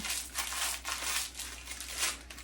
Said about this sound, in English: get a sheet of parchment paper, and I like to crumple it up